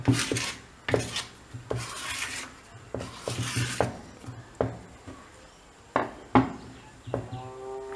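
A thin tin strip scrapes and pushes excess powder across a surface in several short rasping strokes, close up, with no talking.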